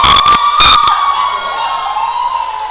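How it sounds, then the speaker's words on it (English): A crowd bursts into cheers and applause at a powerlifting regional championship after a successful 47.5 kg bench press lift, with loud sharp shouts at first that settle into a sustained roar. "Good lift and cheer from the crowd."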